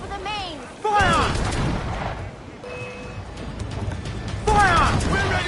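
Sailing-ship cannons in Assassin's Creed IV Black Flag fire in loud bursts, with a heavy blast near the start and another toward the end, amid crashing battle noise and shouted crew voices.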